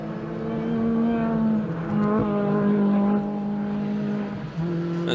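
A race car engine passes a trackside camera mic at a UK circuit race, a loud sustained droning note with shifting pitch as it goes by, steady throughout.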